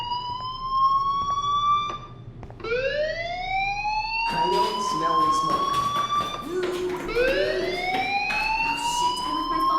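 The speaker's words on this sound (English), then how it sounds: "do you hear that fire alarm?" A fire alarm wails through a school building in the Life Is Strange video game, with rising siren sweeps that repeat several times over ten seconds, loud and close, under steady background music and game ambience.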